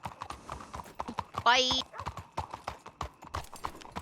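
Horse hooves in Red Dead Redemption 2 clip-clop in a steady, even rhythm, close and clear, broken midway by a brief whinny while a voice speaks.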